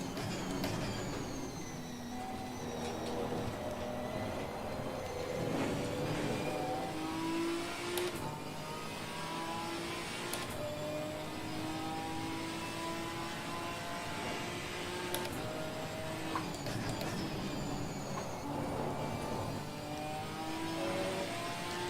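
A Ginetta race car at Imola, its engine revving and accelerating through repeated rising and falling pitch sweeps as gears change, steady and fairly loud from inside or near the car, with no talking.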